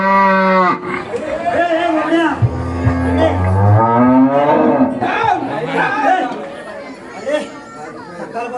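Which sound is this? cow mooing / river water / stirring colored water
cow mooing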